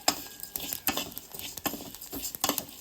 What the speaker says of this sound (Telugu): బ్రౌన్ కలర్ వచ్చేంత వరకు సేమియా అనేది వేయించుకోవాలండి నెయ్యిలో